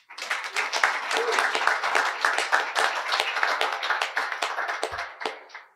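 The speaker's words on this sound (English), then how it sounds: "So a round of applause." Audience applauds a title sponsor at a spring music showcase: steady, dense clapping from a sizable crowd, sustained for several seconds before tapering off at the end.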